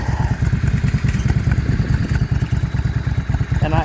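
A 2000 Yamaha V Star 650 motorcycle being ridden, its V-twin engine giving a close, loud, steady lumpy thumping pulse throughout.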